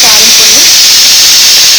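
A pressure cooker cooking rice whistles: a loud, steady hiss of steam jetting out, a continuous high rushing sound lasting the whole moment with faint murmurs beneath.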